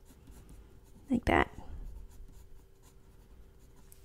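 A watercolor pencil colouring bright pink onto paper makes a soft, continuous close-up scratching, with a brief bit of speech near the start.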